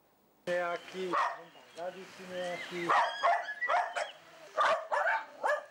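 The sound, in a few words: dogs barking in a village yard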